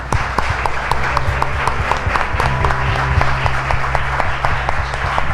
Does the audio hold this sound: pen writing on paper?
no